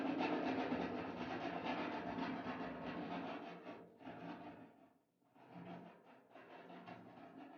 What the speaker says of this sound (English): I'm going to clean up the edges because they're pretty jagged. So I just have a file.